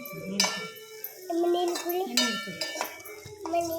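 A spoon mixes a coriander, cumin and pepper spice mixture in a metal pot for a coconut-milk mixed-legume gravy, giving close clinks and scrapes in an uneven rhythm, with a voice talking over it.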